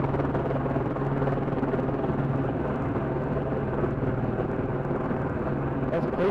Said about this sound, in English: That's a police chopper above us, isn't it?